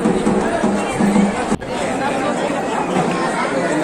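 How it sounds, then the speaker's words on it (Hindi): A large crowd of Savan-month pilgrims and kanwariyas fills Baba Baidyanath Dham temple in Deoghar, Jharkhand, with loud continuous chatter and babble close around, broken briefly by a short dip. "चारों ओर का भक्तों की भारी भीड़"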